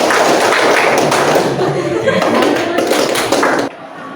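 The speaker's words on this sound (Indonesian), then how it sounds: "Tepuk 1, tepuk 1, tepuk 2, tepuk 3, tepuk 3, tepuk tangan." A classroom of standing students claps along in a rhythmic counting pattern, with broadband taps and thuds running steadily through the clip before stopping abruptly near the end, close and fairly loud, with some voices mixed in.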